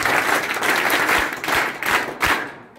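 Standing ovation from an audience for the Glenmark company team, a dense, steady wash of many hands clapping that carries on loud throughout, tapering slightly at the very end.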